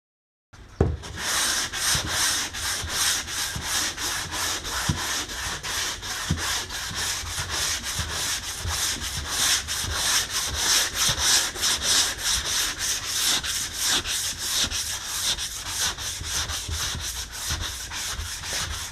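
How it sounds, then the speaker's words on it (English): Hand block sanding of primer with 180 grit sandpaper on a 1962 Impala body, with fast, even back-and-forth rasping strokes that are loud, close and continuous throughout. "I am using a block and I am using 180 grit to sand the primer"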